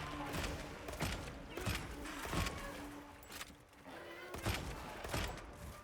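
Heavy bowgun shots in Monster Hunter Wilds, repeated booming blasts in a steady rhythm with mechanical clunks between them and other game sounds around them, moderately loud and close.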